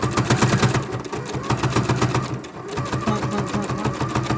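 A sewing machine stitches a quarter-inch seam along the edge of a fabric tube for a jelly roll rug, its needle chattering in a fast, even, continuous rhythm close by.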